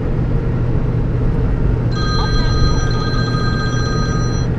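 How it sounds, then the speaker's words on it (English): A cell phone rings inside the cab of a 2008 Ford F-450 crane truck. Steady electronic tones start partway through over a constant low engine and cab rumble. "It's my cell phone."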